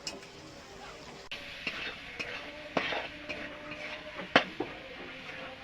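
Ghugni being sautéed and stirred in a pan, a low continuous sizzle punctuated by sharp metallic scrapes and taps of the spoon against the pan, close up and fairly quiet.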